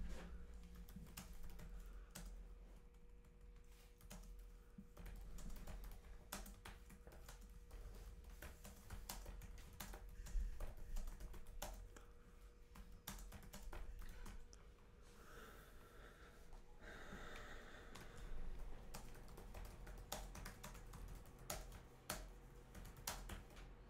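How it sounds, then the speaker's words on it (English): Steady typing on a computer keyboard, a continuous run of quick, close key clicks with irregular rhythm and a few louder bursts, no talking. "it's okay if I'm typing"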